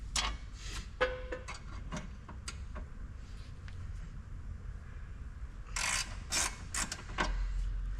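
Ratchet wrench working on a shock nut of a 2020 Porsche GT4 Clubsport, quiet rapid clicking bursts in short runs, close by and with no talk.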